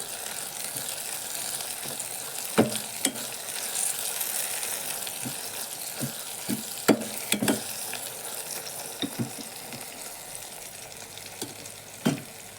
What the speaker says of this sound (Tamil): தக்காளி நல்லா சுருண்டு வதங்கி வரட்டும்